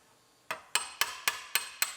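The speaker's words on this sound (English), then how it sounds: "Now we're going to knock the outer piece off." Hammer blows knocking the outer roof panel off a rollover Chevrolet Silverado: six sharp, evenly spaced metallic strikes, fairly close and alone.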